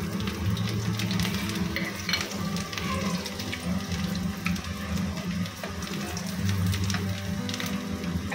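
A spoonful of chopped garlic hits about half a cup of hot frying oil for a cabbage Manchurian, giving a steady, close, crackling sizzle that carries on throughout without speech.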